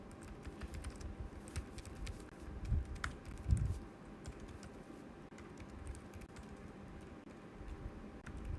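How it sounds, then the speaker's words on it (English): Computer keyboard typing runs for about eight seconds as a continuous patter of soft key clicks, close and moderately quiet, with a few louder thumps around the middle. "So let's type here."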